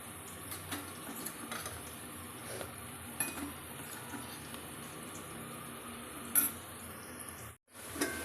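Spoon stirring ginger, turmeric and coriander powder with onions and green chillies in a cooking pot, soft clinks and scrapes repeating steadily under a low sizzle, fairly quiet and close, ending with a brief drop to silence.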